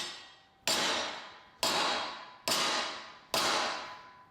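A stainless steel weld coupon, austenitic and laser welded, is bent flat with four sharp loud impacts spaced about a second apart, each ringing briefly and then decaying, with no talk.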